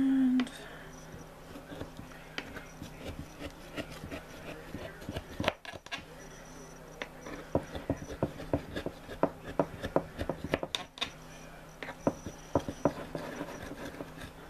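A knife cuts through a slice of lemon cheesecake, giving scattered soft clicks and taps of the blade against the plate, close up and fairly quiet, with brief handling noises between strokes.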